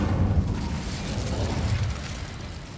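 Incendio fire spell cast in Hogwarts Legacy, a loud sustained roaring whoosh of flame with a dense low rumble that holds steady and fades slightly at the end.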